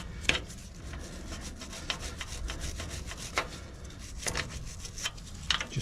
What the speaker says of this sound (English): Just going to give these nuts and thread a quick wire brush.